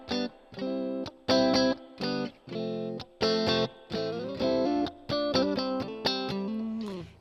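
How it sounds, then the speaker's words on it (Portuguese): Electric guitar chords run through an amplifier simulation with spring reverb, played in a clean tone with a multi-effects pedalboard; strummed chords come in short rhythmic bursts with small gaps, loud and close, no talking. "eu coloquei um reverb spring, que é aquele reverb de mola, que simula os reverbs antigos dos próprios amplificadores"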